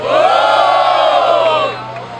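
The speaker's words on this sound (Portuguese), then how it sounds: "Quem acha que da Silva levou esse round? Faz barulho!" A large crowd at a freestyle rap battle roars and cheers loudly and continuously, fading slightly at the end.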